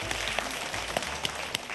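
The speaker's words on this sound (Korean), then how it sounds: "기억하시면 박수 한번 보내주시면 좋겠습니다" Audience applause at a Korean science talk on math magic: a dense, steady wash of clapping from a crowd, fairly loud and continuous, with a few sharper individual claps standing out.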